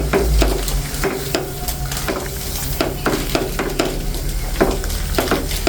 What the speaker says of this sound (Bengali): এখন কিন্তু নেড়ে ছেড়ে মিশিয়ে নিচ্ছি।